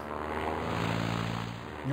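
Propeller fighter plane climbing in the game Sid Meier's Ace Patrol, a quiet steady engine drone with a rising tone near the end, faint and alone.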